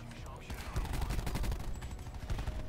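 Rapid automatic gunfire from Call of Duty Black Ops 4 on the Nuketown map, dense bursts of shots rattling close and loud for nearly three seconds with no talk.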